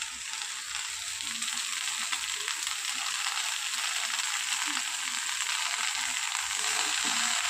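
Bottle gourd greens hit hot spiced oil in a pan, giving a loud, steady, close sizzle with faint stirring clatter underneath. Nobody speaks throughout.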